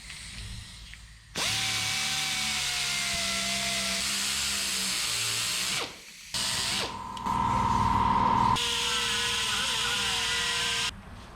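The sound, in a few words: power drill drilling holes in Datsun 620 part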